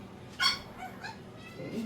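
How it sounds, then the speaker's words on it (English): A pet dog named Marley gives a short sharp bark at Mew, a female cat in heat, indoors beside a kitchen, then makes fainter yips and whines against a quiet room. "Marley, stop barking at Mew."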